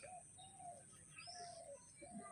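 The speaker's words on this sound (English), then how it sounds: "the chirping of the birds" Birds chirp and call in short, repeated phrases, a few whistled notes trading back and forth against a quiet forest background with a high insect-like hum, at a jungle resort in Masinagudi.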